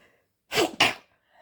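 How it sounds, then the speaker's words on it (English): A single sneeze, sharp and close, split into two quick bursts, with near silence before and after. "I have to sneeze again."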